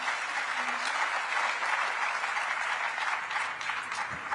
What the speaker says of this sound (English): And you hear the round of applause.